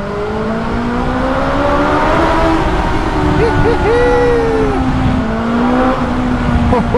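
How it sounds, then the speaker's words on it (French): A 165 hp BMW S1000 motorcycle engine roars loudly at high revs, with a few quick blips of the throttle and pitch shifts over a continuous, close drone. "La nouvelle moto, c'est la BMW S1000"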